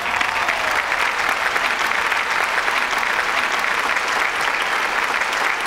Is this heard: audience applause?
yes